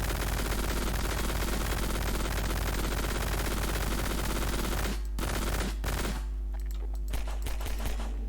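Rapid automatic gunfire in a video game rattles loud and unbroken for about five seconds, then breaks into a few short bursts before giving way to quieter humming.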